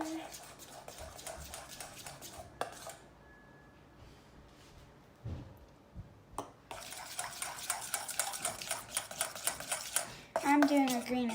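Slime ingredients being mixed in a bowl, a rapid run of wet clicking, squelching and scraping strokes that starts, pauses briefly, then returns louder and busier, while a person talks.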